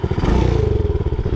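A 110cc ATV engine fitted in a vintage mini-bike idles close by on a cold day, a loud, rapid, even putter with a rattling edge.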